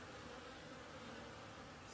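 Honey bees at a hive entrance fitted with an entrance reducer, a faint, steady, continuous buzzing hum with no gaps for about two seconds.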